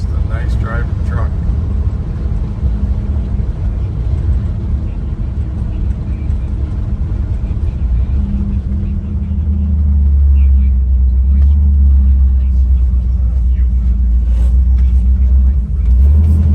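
A 1972 Chevrolet C10 Custom Deluxe pickup truck drives along with a steady low engine and road rumble that swells louder partway through, a voice talking over it at times.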